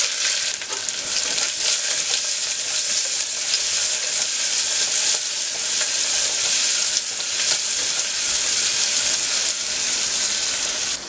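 Whole spices, garam masala, bay leaf and onion sautéing in a hot pan for an eggplant rice dish, giving a steady, loud, close sizzle and crackle throughout with no talking.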